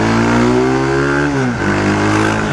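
Motorcycle ridden through traffic, loud close engine tone holding steady then dropping in pitch as the rider eases off, with a brief dip before the hum settles lower.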